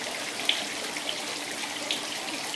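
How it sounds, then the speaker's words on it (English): A faucet runs water into a bowl, a steady hissing stream with a few faint clinks and drips over it, fairly close and with no talk. "Then they turn their faucet on over there."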